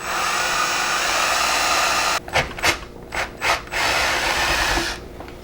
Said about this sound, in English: So I'm going to go ahead and drill that hole.